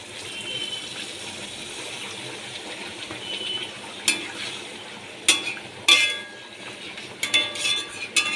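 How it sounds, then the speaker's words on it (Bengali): Half a bowl of water poured into a pan of hilsa fish cooking in mustard paste, a soft continuous wash of liquid and hiss, broken by several short sharp splashes and clinks near the end. "এখানে আমি হাফ বাটি মতো জল দিয়ে দিচ্ছি।"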